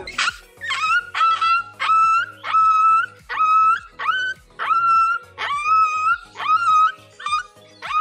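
A person imitates a dog, giving about a dozen sharp yelping barks in quick succession, loud and close, with nothing else heard.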